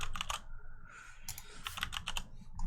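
Bursts of clicky keystrokes on a computer keyboard, typed in quick irregular clusters with short pauses, close and fairly quiet with no one talking.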